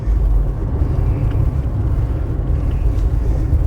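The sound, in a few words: Morris Marina engine at 3,000 rpm while driving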